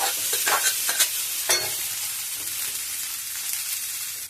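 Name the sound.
cooked rice being added and stirred in a frying pan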